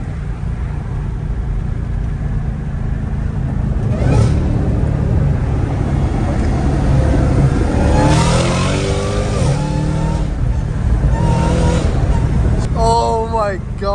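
Dodge Hellcat Redeye engines revving and accelerating hard, loud and close, with rising surges near the middle and end while people talk excitedly over the roar.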